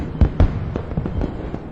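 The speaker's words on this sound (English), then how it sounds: "Light pulsed through the window, then fireworks, a cascade of gold exploding across the dark sky." Fireworks go off at night in a quick string of sharp booms and crackles, several bursts in under two seconds, loud and fairly near.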